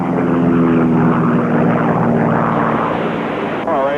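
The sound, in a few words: AT-6 propeller plane engine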